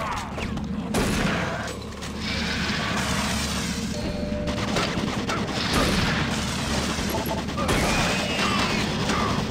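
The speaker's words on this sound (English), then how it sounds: "Warning, automated turret guns online." In Doom 3 BFG, automated turret guns unleash loud volleys of gunfire broken by short gaps, mixed with booming impacts and crashing noise over a rumbling backdrop.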